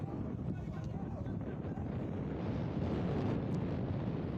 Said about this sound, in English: Windy conditions, as you can hear here in Osceola Heritage Park.